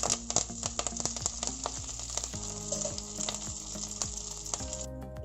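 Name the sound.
curry leaves sizzling in hot oil with garlic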